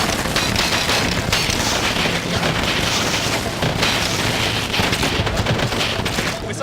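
Dense video game combat effects fill the clip: rapid bursts of gunfire, booming explosions and magic blasts roll continuously and loudly, with a brief voice speaking over the din.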